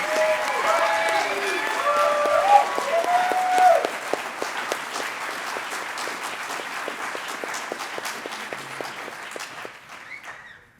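An audience at a distinguished alumni awards ceremony applauds a 2019 award recipient, steady dense clapping that gradually thins and fades out, with a few voices and cheers mixed in early on.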